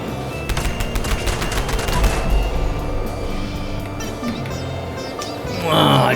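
The Shredder minigun in Fallout 76 fires in a dense rapid burst of shots, with sharp cracks at the start and a steady rattling fire after that. It ends in a few softer clanks near the close.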